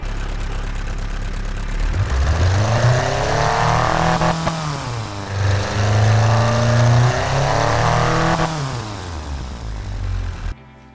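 A sporty car engine in the racing game Automation revs up from idle, climbing and falling in pitch through several loud, sustained pulls before cutting off abruptly near the end.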